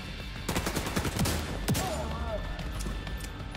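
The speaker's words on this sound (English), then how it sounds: "I'm really glad the shotgun's semi-automatic." Semi-automatic shotgun fired in The Division 2 during the Jefferson Trade Center mission: several sharp, loud shots spaced unevenly over a few seconds, over game ambience with a voice talking.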